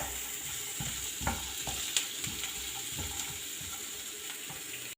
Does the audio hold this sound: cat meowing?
no